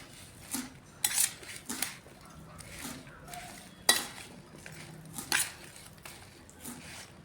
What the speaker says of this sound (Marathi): आता त्याला चांगलं मिक्स करून घेऊया